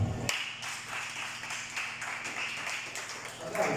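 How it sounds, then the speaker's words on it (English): Audience clapping at a church discipleship summit, a steady, moderately distant patter of many hands filling the hall, fairly quiet overall. "Clap for me."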